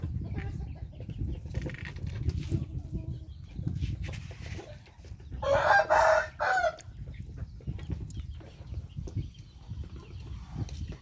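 A rooster crows loudly midway through, set against a low, steady outdoor rumble with scattered clucking and no talking.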